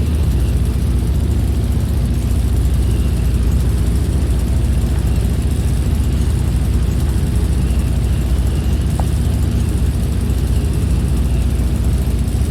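An Avro 621 Tutor, a 1930s British biplane trainer, with its engine throttled back to about 1600 RPM in level flight: a loud, continuous propeller and engine drone that holds steady, close and unbroken throughout.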